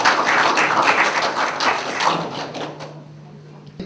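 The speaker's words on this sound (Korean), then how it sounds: "다시 한번 큰 박수로 축하해 주시기 바랍니다." Audience applause at a Korean inauguration ceremony for an international green climate organisation's Busan Gijang office chair, dense steady clapping from a hall that thins out and fades toward the end, with a low hum underneath.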